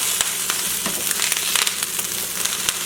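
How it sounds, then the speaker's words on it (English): Kale frying in oil in a pan, a steady close sizzle with small crackling pops scattered throughout, no voices. "Got enough oil in there for the kale to fry a little bit in"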